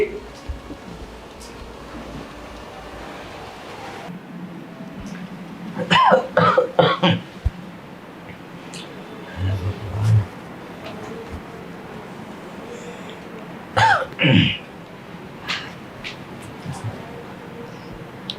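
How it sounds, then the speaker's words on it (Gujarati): An elderly father coughs in harsh bursts, several clustered together then a pause before another fit, with background noise and some talking between coughs. "વધારે ઉધરસ ચડે છે?"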